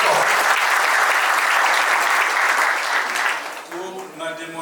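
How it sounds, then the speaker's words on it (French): Sustained applause from a crowd at a civil wedding ceremony, loud and steady before thinning out near the end as a voice begins to speak. "On acclame encore."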